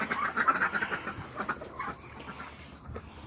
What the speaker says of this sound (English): This is social time for the ducks.